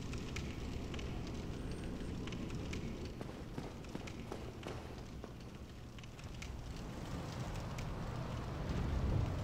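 A bonfire burning in Dark Souls gives a soft, continuous crackle and low roar, with faint scattered pops over a steady rumble that swells slightly toward the end.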